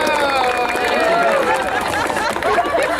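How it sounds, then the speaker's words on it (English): A live audience roars for a four-ball juggling act at a street show, a dense, sustained wall of crowd noise with shouting voices lasting about three seconds. "4-ball juggling, which should be a dull roar."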